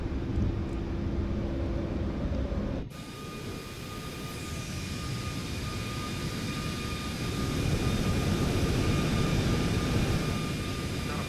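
Boeing 737 MAX 8 jet accelerating down the runway and lifting off in a flight simulator game, a steady loud engine roar that shifts abruptly early on, then holds a broad continuous rumble with a faint high whine throughout.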